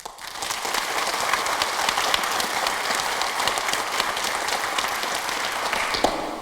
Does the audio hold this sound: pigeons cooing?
no